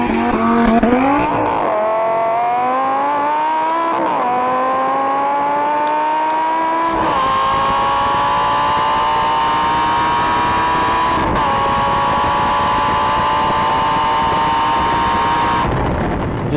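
A loud Lamborghini V10 engine revs up and holds a high, sustained roar, climbing in pitch in a few steps before cutting off.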